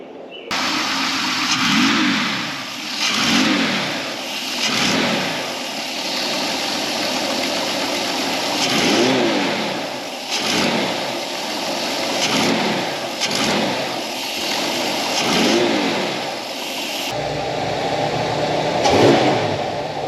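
Engine of a 1968 Ford Bronco half cab revving repeatedly while being driven in first gear, surging and easing in uneven waves over a steady road rumble, close and loud throughout.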